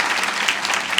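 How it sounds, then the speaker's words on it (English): Audience applause for an event's organizing team at a talk on economic diplomacy, a steady dense wash of clapping throughout, loud and continuous. "So give a round of applause to our team who has worked hard."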